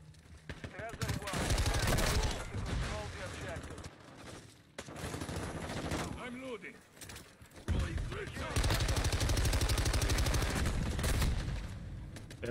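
Rapid bursts of video game automatic gunfire crackle loudly and almost continuously, pausing briefly mid-clip before resuming, with a voice talking over the shooting.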